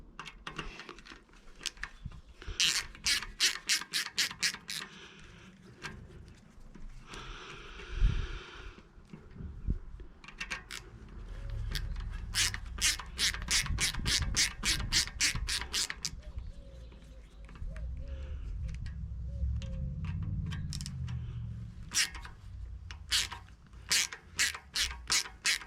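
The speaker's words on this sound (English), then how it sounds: "We'll just take the 4 screws out." Screws being backed out of a Yagi antenna assembly with a ratcheting driver, giving bursts of rapid clicking separated by pauses, up close and fairly quiet, with soft handling noise between the runs.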